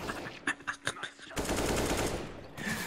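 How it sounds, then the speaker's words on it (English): Gunfire from a revolver in the video game Counter-Strike: Global Offensive, a few sharp loud shots early on followed by a dense burst of game firing noise, with no talk over it. "I got killed with a revolver."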